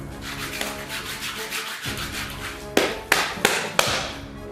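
A hand rubbing bits of plaster off a rubber Hirst Arts casting mold, giving a steady close scratchy rubbing, then four sharp taps near the end.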